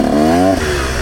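A KTM 125SX dirt bike warming up, its engine revving in a rising, loud, close whine that cuts off after half a second and settles into a lower, rougher idle.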